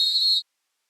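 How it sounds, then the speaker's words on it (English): Single short, shrill referee's whistle blast at a college women's basketball game, lasting under half a second before the clip falls silent. "we have ourselves a whistle"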